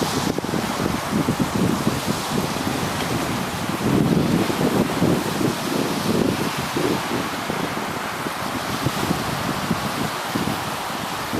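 Waves wash continuously on a beach in the southern Abacos while wind rushes across the microphone, a broad steady roar with soft surging swells and no talking.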